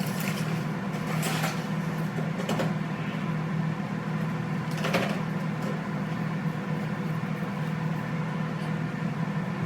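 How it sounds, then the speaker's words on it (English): The fan of a Power Air Fryer Oven Plus runs with a steady low hum and whir, continuous throughout, with a few faint clicks and knocks on top. "the timer will stop, but it's gonna just be, the fan gonna be spinning"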